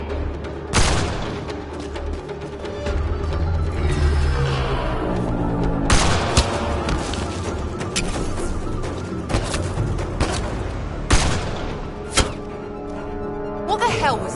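Gunfire in Mass Effect: Andromeda, with dense sci-fi weapon shots and sharp impacts cracking repeatedly over a constant battle din, loud and close, while characters shout during the fight.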